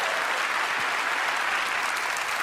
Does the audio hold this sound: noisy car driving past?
no